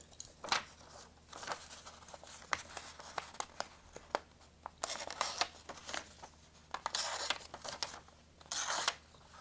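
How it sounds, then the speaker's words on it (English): A freshly sharpened Rage broadhead blade slices through paper in a series of crisp rasping cuts and tearing swipes, some short and some drawn out, close and fairly quiet with no talking. "let's see if it can cut paper"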